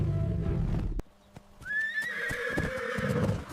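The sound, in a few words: horse neighing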